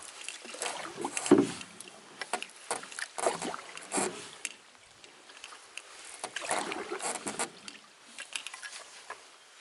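Paddle strokes from a solo canoe on a lake in Algonquin Park on a crisp fall day, heard as close, soft splashes and drips in an irregular rhythm over quiet water, with no talking.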